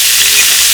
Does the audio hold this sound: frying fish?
yes